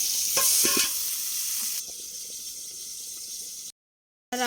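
Pointed gourd fries in a little leftover oil in a wok, a steady bright sizzle with stirring scrapes, up close and alone, cutting off briefly near the end before resuming.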